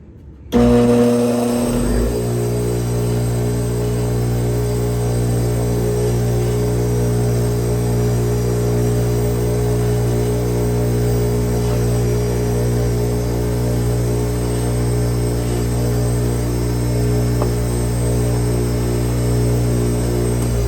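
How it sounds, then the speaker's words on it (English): A spinning wire wheel scrubs built-up grime off a chainsaw part, giving a loud, steady motor whir and hum that holds unbroken for about twenty seconds, with no voices. "I'm just going to hit it on the wire wheel."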